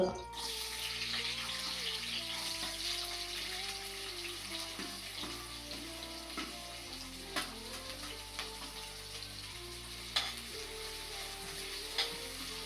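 Small onions hiss and sizzle steadily in hot oil in a pan with cloves, a continuous frying crackle with occasional sharper pops and clinks of stirring throughout.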